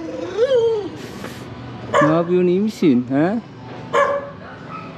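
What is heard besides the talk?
small dog whimpering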